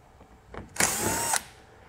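A power drill runs in one sustained whine of about half a second, backing out Torx screws from the lower panel of a 2021 Cadillac XT5 during a trailer hitch installation. A short mechanical noise comes just before it. No one talks.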